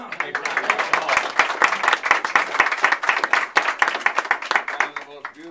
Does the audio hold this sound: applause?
yes